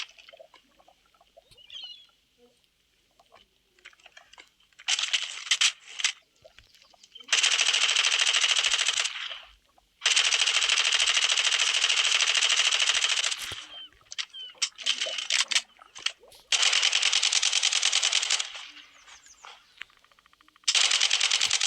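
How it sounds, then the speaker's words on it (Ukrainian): Rapid sustained bursts of minigun fire from a Minecraft weapon mod, long roaring volleys starting and stopping abruptly, with quieter clicks and mechanical sounds in between. "Такі от звукові ефекти у мінігана."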